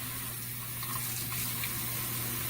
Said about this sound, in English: So with the clean, fresh water, inside, outside, and you can see now how fast the water is draining out of this.